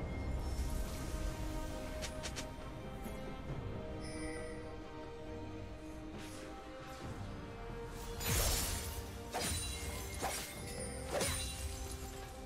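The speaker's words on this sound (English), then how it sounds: "Red Team's turret has been destroyed." A turret in League of Legends is destroyed: a loud crumbling crash and shattering burst rises out of busy game effects and music, followed by a few more sharp impacts.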